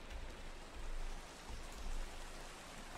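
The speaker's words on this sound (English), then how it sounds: "I love the rain so much." Rain falling in a video game, a steady, dense hiss of droplets with gentle swells in loudness, continuous throughout with no talk.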